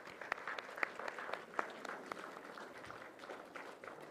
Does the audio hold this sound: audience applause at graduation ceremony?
yes